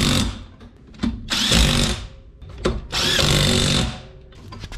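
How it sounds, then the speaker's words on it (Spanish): A power tool whirs in two long bursts with shorter spurts between them while tightening the wheel lug nuts on a Volkswagen Pointer, loud and close in a workshop setting. "Así que comenzamos a apretar nuestros birlos."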